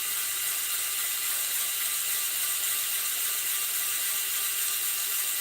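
A small drill whirs steadily and continuously up close while boring a hole in the gas tank of a scale model Jeep YJ, with no talking over it.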